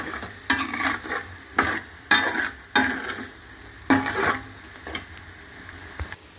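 A spoon stirs chili, salt, turmeric and garam masala in a frying pan, producing repeated scraping strokes against the metal over a steady oily sizzle, close up and without voices.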